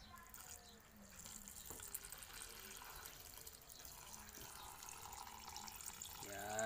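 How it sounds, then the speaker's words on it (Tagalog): Water poured into a pet's water container, a steady splashing trickle that runs throughout, filling up toward the end, with faint voices in the background. "lagyan na natin ng tubig"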